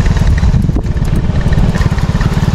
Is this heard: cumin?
no